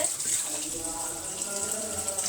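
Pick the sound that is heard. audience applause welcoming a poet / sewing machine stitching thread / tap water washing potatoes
tap water washing potatoes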